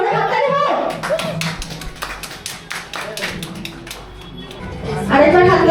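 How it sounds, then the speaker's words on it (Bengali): A crowd at a jewellery shop's Poila Boishakh celebration claps for a winner. The scattered clapping runs for a few seconds and has voices around and over it. "তো ওনার জন্য একটা জোরে হাততালি হোক"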